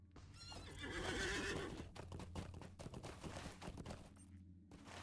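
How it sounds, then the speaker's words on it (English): A horse in the online game Lord of the Rings Online lets out a clear, drawn-out neigh, followed by scattered clopping hooves and sharp game clatter, all fairly quiet and with no talking. "There should be a horse here as well."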